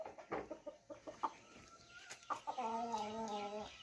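Chickens clucking close by in a house yard in the morning, a series of short irregular clucks followed by a longer drawn-out cackle toward the end, fairly quiet.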